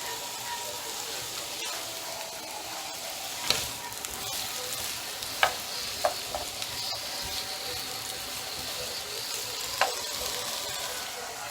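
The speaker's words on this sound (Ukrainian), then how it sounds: "І зараз викладемо туди кабачок з гарбузом. І добре його просмажимо." Zucchini and pumpkin fry in a pan with a steady, fairly faint sizzle, broken by a few sharp clicks of a utensil against the pan.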